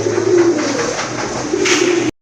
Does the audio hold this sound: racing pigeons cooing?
yes